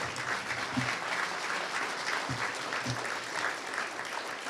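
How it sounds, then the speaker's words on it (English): A round of applause at a 2025 state of the economy address, honoring three colleagues: dense, steady clapping from a seated crowd fills the full stretch at a constant level, with a few low thumps underneath. "I'd like to just have a round of applause for Marty, Ryan, and John"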